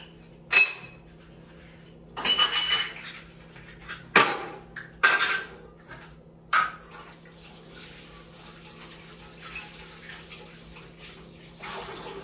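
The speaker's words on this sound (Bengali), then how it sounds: "এই ঠাকুরের বাসন কাটা ধুয়ে নিই, ধুয়ে তারপরে চা খাবো।" Utensils from a household prayer room get washed with water, with several loud clatters of metal vessels and splashing bursts spread through the clip over a steady background hiss.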